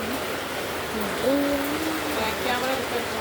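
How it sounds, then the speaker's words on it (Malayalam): Heavy rain pours steadily outside, a dense hiss sustained throughout while a voice talks over it. "പുറത്ത് നല്ല മഴയാണ്. എന്താ ട്രെയിൻ കണക്കിന് മഴയാണ്."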